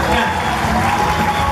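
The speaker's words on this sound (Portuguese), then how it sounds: "Uma salva de palmas para a área." A crowd applauds at a school honors ceremony in a loud, steady wash of clapping that stays fairly even over a short stretch, with voices mixed in.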